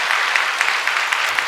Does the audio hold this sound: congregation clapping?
yes